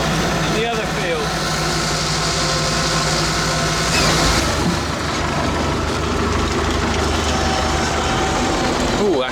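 Tractor engine running loud and close while mowing hay in a field, a continuous rumbling drone with knocking texture throughout, with a person talking over it.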